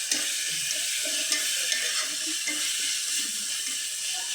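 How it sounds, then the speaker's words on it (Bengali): Ground coconut paste goes into a hot pan and sizzles loudly and steadily, a dense hiss close up with faint stirring clatter beneath; no voices. "আমি নারকেল বাটাটা দিয়ে দিই।"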